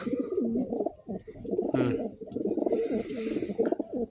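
An old pigeon coos repeatedly in low, throaty bursts nearby, with faint rustling between calls.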